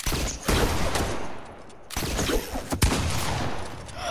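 Gunfire in a video game, including an attempted no-scope sniper shot, comes as loud, dense bursts of shots with brief gaps between volleys.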